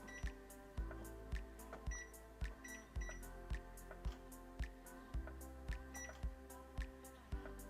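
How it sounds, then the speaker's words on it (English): A kitchen timer being set while bread dough rises, giving a steady series of short electronic beeps at regular intervals, fairly quiet and close. "So I'm gonna put my timer on."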